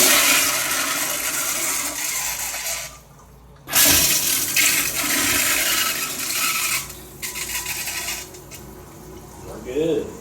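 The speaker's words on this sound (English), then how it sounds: "Now we're flushing the toilet while he has the camera in to see if it'll actually flush." Hotel toilet flushing during a plumbing leak repair, a loud rushing, gurgling swirl of water with a brief drop-out midway, then the flow resumes and trails into refilling noise with mechanical clicks.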